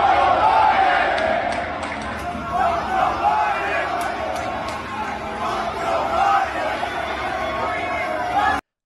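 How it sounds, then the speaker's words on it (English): A large crowd at a Donald Trump event chants in rhythmic unison, loud and continuous, with shouting and general crowd noise mixed in throughout. "everybody's just chanting, "Let's go Biden.""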